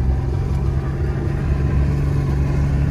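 A Chevrolet ZR2 Bison truck fitted with GM Performance jounce shocks climbs a hill in two-wheel drive, its engine droning in a steady, close, continuous rumble with no talking.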